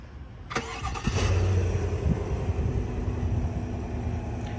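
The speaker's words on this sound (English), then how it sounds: "You can also remote start the vehicle by making sure it's locked and pressing the remote start button twice." A 2021 Chevrolet Suburban High Country engine started by remote start, with a sharp crank at about one second settling into a steady, close rumbling idle that runs to the end.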